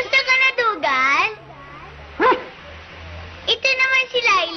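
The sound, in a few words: dog barking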